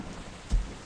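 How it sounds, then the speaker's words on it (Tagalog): Steady rain hiss in the horror game Pipe Head, a dense even wash throughout with one brief low thump partway through; no speech. "Dagdag takot yung ulan."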